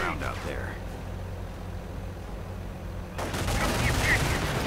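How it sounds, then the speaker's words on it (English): Machine gun fire rattles through a video game battle with bazooka rockets flying at a Geschützwagen, a steady crackle that grows louder near the end, under a commentator talking throughout. "MG opening up, more bazooka rockets flying at the Geschützwagen"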